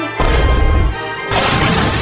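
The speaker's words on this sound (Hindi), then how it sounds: "बचाओ, पानी की टंकी टूट गया।" Cartoon crash of a water tank bursting: a loud smashing impact with a heavy low rumble, then a bright, noisy splashing roar that stays loud to the end.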